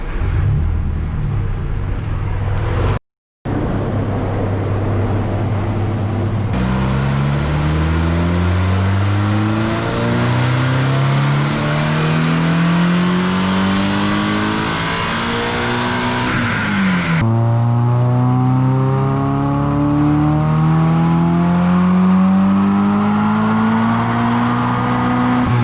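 An HKS supercharged Toyota GT86 engine revs on a dyno in long, steady climbs through the gears. Each pull rises in pitch, then drops sharply at the shift. The engine is loud and close, with a brief cut early on and no talking.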